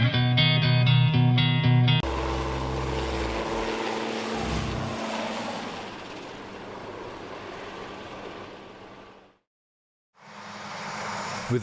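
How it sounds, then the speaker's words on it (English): Military helicopter rotor noise thrums steadily at a distance, preceded by a brief tonal passage, then cuts to silence before resuming. "What kind of helicopters are those?"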